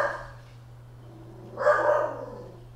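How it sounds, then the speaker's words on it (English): Two pet dogs whine and give a short bark-like yelp indoors, a soft whimper followed by a louder, higher cry lasting under a second, with steady low hum behind. "It's both my dogs crying with me."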